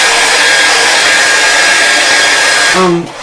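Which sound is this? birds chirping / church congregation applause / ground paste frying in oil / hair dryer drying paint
hair dryer drying paint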